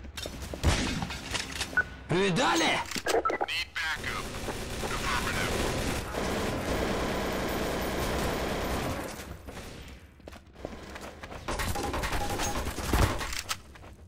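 Gunfire in the video game Counter-Strike: Source, with bursts of rapid shots and sharp impacts across a busy stretch of in-game noise, broken by short quieter gaps, and a voice speaking briefly in between.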